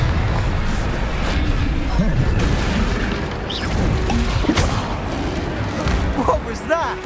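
A Confringo fire spell blasts in the Hogwarts Legacy video game, a loud booming burst with crackling debris and rumble, set among continuous game effects and character voices.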